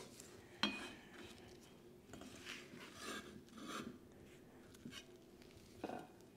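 A knife cuts Chinese chives into lengths on a board, soft irregular scraping chops and taps, close and quiet, with a sharper knock near the start.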